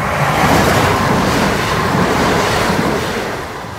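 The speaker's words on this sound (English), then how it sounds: "I think the train's nearby." Loud, steady rushing roar of a train passing close by at Attenborough level crossing, holding broadband noise before easing slightly toward the end.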